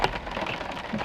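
Steady rain hissing and pattering during a motorcycle ride in weeks of wet weather, a dense, continuous wash of noise close by with no voices.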